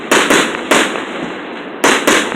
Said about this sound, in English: watching fireworks